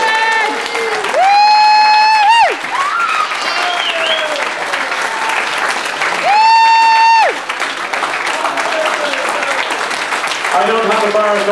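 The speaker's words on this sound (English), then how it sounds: "I'd like a big round of applause, and I'd even like a standing ovation for Stephen" Audience applause and a standing ovation at a Laurel and Hardy fan convention award ceremony in Dublin, steady clapping throughout with a loud whoop and sung or shouted tones rising over it twice.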